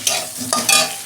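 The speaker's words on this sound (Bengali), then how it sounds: "এই সবজিগুলো আমি একটু ভালো করে লাল লাল করে ভেজে নেব" Mixed vegetables frying in hot oil in a pan, a loud close sizzle with quick scraping strokes of a spatula stirring them, several short bursts in a row.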